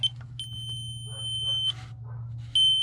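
High electronic beeps from a stud detector run along a popup camper wall, sounding several times with gaps between, over a low steady hum; close and clear.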